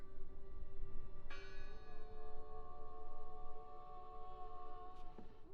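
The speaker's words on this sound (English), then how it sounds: "Listen! The bell! They're still in there." A church bell rings in the horror video game Draugen, a clear ringing strike with long sustained tones that fade slowly, then a second fainter strike near the end over a low ambient rumble.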